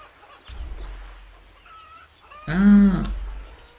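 A game chicken lets out a short burst of squawking clucks, loud and close, after a quieter stretch of low background rumble.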